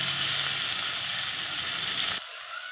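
Chopped tomatoes and brinjal frying in hot oil give a loud, steady sizzle close up, which drops off abruptly near the end as the pan goes quieter, with no voices.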